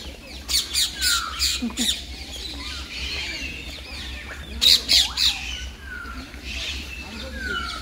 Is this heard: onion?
no